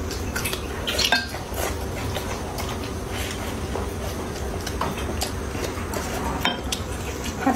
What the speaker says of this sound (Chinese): 吃豆豉炒煎辣椒啊，